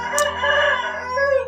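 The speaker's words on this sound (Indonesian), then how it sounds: "Ayamku kok bunyi ya." A rooster crows once, a loud drawn-out cock-a-doodle-doo heard close by and alone, with no talking.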